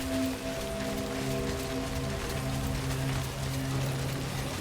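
Rain falling in a video game, a steady dense hiss of drops on surfaces with a faint low tonal hum beneath, with no voices.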